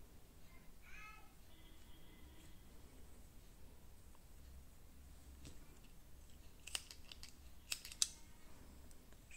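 Scissors snip through knitted yarn while a crocheted cork hair clip is being made, a few faint, quick crisp clicks near the end over a quiet room hiss.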